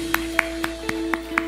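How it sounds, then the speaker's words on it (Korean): A church congregation at a festive worship service claps in a steady beat: six sharp, evenly spaced claps over a faint, constant background hum. "우리 하나님께 감사와 영광의 박수 올려드립니다."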